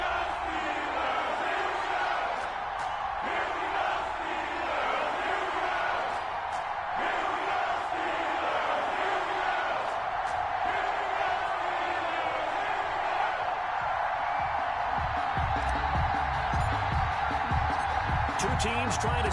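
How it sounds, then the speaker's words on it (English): Stadium crowd at an NFL Week 14 game between the Arizona Cardinals and Pittsburgh Steelers, a constant distant roar with occasional whoops, under a voice speaking throughout. "This crowd is ready as their guys get set to match up between the Arizona Cardinals and the Pittsburgh Steelers."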